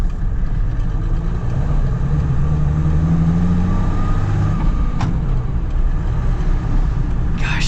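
A diesel Mercedes G-Wagon off-roader with about 61,000 miles is driving, its engine droning loud and steady from inside the cabin, with a low rumble that shifts pitch as it runs.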